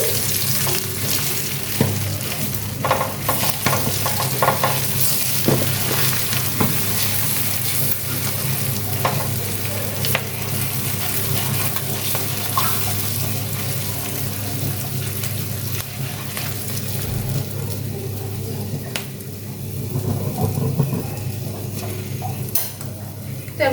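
Dried chili powder hits hot oil while making Bengali mustard hilsa (shorshe ilish), giving a loud, continuous close-up sizzle with occasional stirring scrapes, with no talking.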